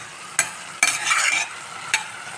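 Mushrooms with curd, coriander, mint, garam masala and green chilli sautéing in a pan: a soft steady sizzle broken by a few brisk stirring scrapes, close and fairly loud.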